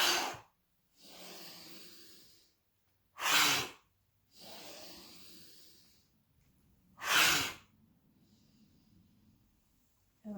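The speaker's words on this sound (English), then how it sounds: "So let's start 3 times doing our cleansing breaths." Cleansing breaths in a restorative pranayama yoga class: sharp, forceful exhales alternate with longer, softer breaths, repeated in slow cycles with quiet pauses between.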